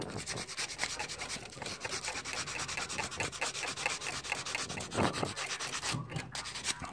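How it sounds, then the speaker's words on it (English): Sandpaper rubbing back and forth over a GY6 180cc scooter engine top-end part in a steady, close, continuous scraping rhythm, with no talking. "We might not have to worry about changing the sandpaper."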